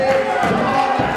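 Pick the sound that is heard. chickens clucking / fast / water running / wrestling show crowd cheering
wrestling show crowd cheering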